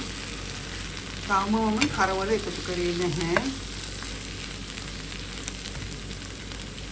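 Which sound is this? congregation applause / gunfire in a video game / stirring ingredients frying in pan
stirring ingredients frying in pan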